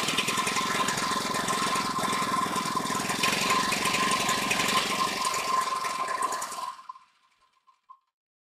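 Small engine running on homemade wood gas, a loud rapid putter that runs steadily and then sputters out and dies, with a few final pops before silence.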